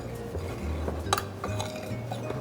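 Seasoned flour with salt and fresh pepper is stirred together with a utensil in a bowl for slow-cooker lamb shanks, producing soft scraping and light metallic clinks, close and quiet with no talking.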